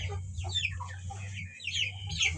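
Backyard chickens in a coop bedded with rice hull cluck and chirp in scattered, overlapping bursts over a low steady hum, close by and moderately loud.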